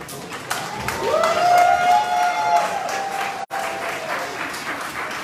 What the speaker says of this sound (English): Ladies and gentlemen, please another round of applause.